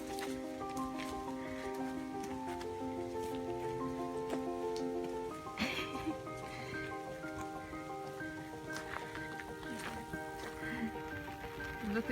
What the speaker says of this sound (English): Look at this, it's pouring with rain.